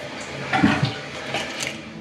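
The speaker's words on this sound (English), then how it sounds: "I flushed the toilet with my butt." A newly installed toilet flushes in a remodeled bathroom, a rushing gurgle of water that swells briefly and then settles into a steady draining wash, close by with no talking.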